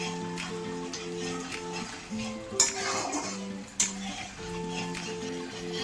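Spoon stirring a spice paste with salt, cumin-chili paste and sugar in a pan for Bengali doi katla, with utensil scrapes and clinks against the pan and a couple of sharper knocks over a steady tonal kitchen background.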